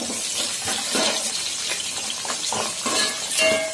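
Onions and green chillies sauté in a pan over a raised flame, a bright crackling sizzle broken by repeated scraping strokes of a spoon, close and steady without talk.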